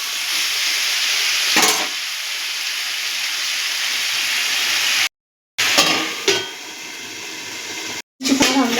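Vegetables and soybeans cook over medium heat in a covered pan, giving a continuous close hiss and sizzle with a couple of soft clinks and brief breaks.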